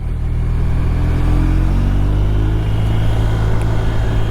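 A BMW R1250 RT motorcycle engine pulls away steadily through the low gears, a continuous near rumble with a rising mid-range drone and faint wind noise throughout, no talking.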